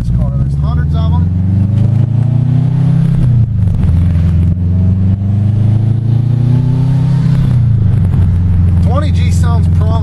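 A Subaru WRX accelerating while driving: a loud engine pulls up through the revs in rising sweeps, eases off, then climbs again near the end. Heard from inside the car.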